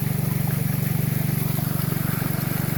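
Water pump on a gold dredge running, a steady low engine thrum with a fast, even pulsing beat under a hiss of water, close and continuous without talk.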